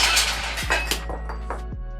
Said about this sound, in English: Take a hammer and hit the leaf spring.